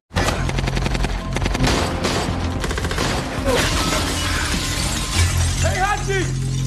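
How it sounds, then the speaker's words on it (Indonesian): A shootout scene in the action film Nobody, with rapid bursts of gunfire and shattering impacts at close range, followed by scattered clanks, mixed with voices and a dramatic score. "adu tembak pun terus terjadi di sana"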